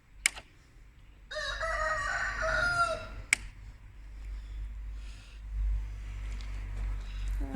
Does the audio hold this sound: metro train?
no